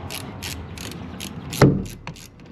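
A hand ratchet clicks as a fastener is tightened during a windshield replacement on a 2018 Mercedes GLE350, a few close metallic ratcheting strokes followed by a louder clunk, no speech.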